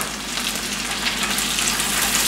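Sweet peas and a diced Roma tomato frying together in a pan, a dense, even sizzle close to the microphone, steady and uninterrupted.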